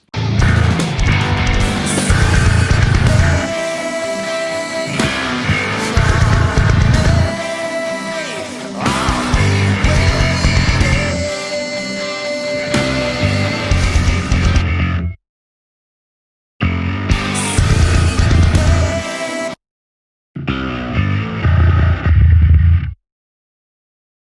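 A heavy, distorted bass guitar riff through the Audified Sphene Pro plugin with a Mesa Boogie Powerhouse cabinet impulse response plays loud and close, with thick low-end growl, stopping briefly twice before resuming.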